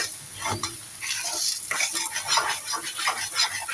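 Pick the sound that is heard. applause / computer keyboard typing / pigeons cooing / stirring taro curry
stirring taro curry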